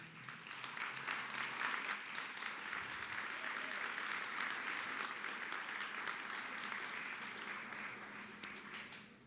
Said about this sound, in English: Would you please stand and give them a round of applause?